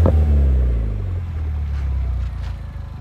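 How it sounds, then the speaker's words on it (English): A deep, throaty exhaust rumble from a Mini Cooper S R56 with a Scorpion cat-back exhaust idles close by, loud at first then settling into a steady low burble. "nice Scorpion cat-back exhaust there"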